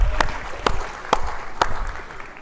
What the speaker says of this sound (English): So I'm going to give you a round of applause